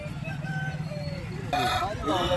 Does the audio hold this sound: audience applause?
no